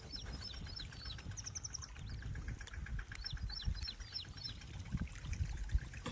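Water trickles and pours steadily into a cotton field outdoors, with birds chirping and a low engine idling in the background.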